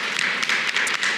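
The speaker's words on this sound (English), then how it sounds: "Let's give them a round of applause to our moms." An audience claps at a Mother's Day panel for the moms, a short burst of many hands applauding close by.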